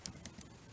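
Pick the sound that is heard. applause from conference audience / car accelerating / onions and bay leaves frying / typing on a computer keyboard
typing on a computer keyboard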